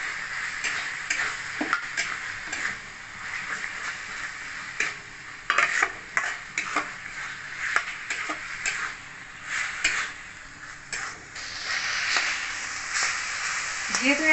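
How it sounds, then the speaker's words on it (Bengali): Chicken mince stir-fried with spices in a pan, with soft scraping stirs and light sizzling ticks that come and go fairly quietly and close by, with no talk over it. "মশলা থেকে তেল ছেড়ে গেলে এই চিকেন কিমাটা দিয়ে দেবো এর মধ্যে। এবার ভালো করে কষে নেবো।"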